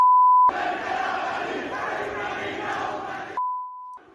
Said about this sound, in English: It is very new to hear Iranians openly call for the death of the supreme leader and curse his name.